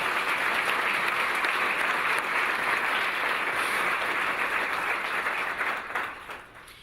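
Loud, sustained applause from the crowd at the Nampa State of the City 2022 event, dense clapping that holds steady and then tapers off near the end.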